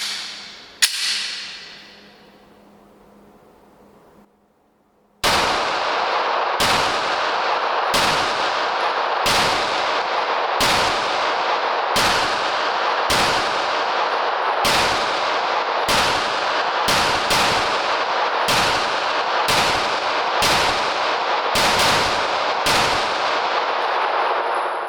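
A Glock G45 MOS pistol fires a magazine outdoors: after a faint shot and a short lull, about fifteen loud, sharp reports ring out at a steady, fairly quick pace, each trailing off briefly.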